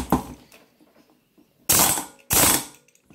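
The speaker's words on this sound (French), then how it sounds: "Enfin, le mieux, c'est d'avoir une clé à choc." An impact wrench loosening a nut fires two loud, short hammering bursts in quick succession, each about half a second long, after a faint initial clatter.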